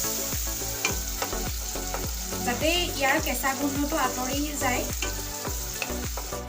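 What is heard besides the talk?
frying tomatoes in a wok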